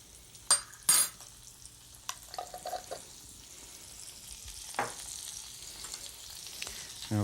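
Garlic and vegetables frying in a pan in a 1995 cooking show kitchen, a soft steady sizzle broken by a few sharp clanks and scrapes of a utensil against the pan.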